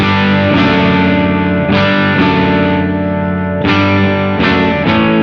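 An electric guitar through a Tallon Electric Dual Drive pedal on its heavy-gain setting plays loud, compressed, distorted chords, several sustained strums ringing one after another.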